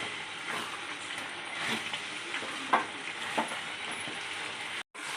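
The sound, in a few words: pepper chicken cooking in covered pan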